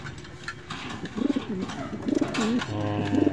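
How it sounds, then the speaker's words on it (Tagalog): Pet birds squabbling with pigeon-like cooing: a few close, wavering coos and throaty calls in quick bursts over a low background murmur. "Away yung bird ni Charlotte."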